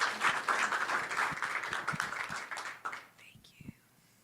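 Audience applause at a research science update meeting, a brief round of clapping that fades out as whispering and talk continue.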